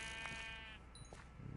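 A sheep bleats in the Minecraft video game: one close, drawn-out wavering bleat over steady game background noise, with no talking.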